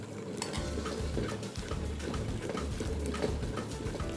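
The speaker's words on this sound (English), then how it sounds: "Then you stir it." A spoon stirs abacha in a pot, with soft repeated scraping and clinks over a steady low hum and a rhythmic background tick, close by and without speech.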